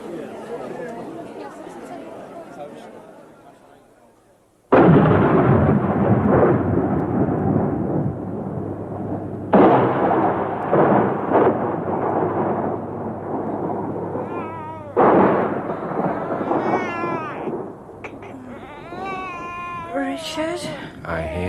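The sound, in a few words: thunderstorm, thunder in radio drama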